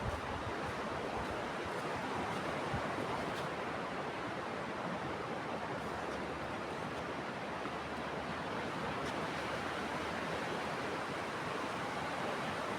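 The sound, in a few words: ocean waves at beach in Tibau do Norte, Brazil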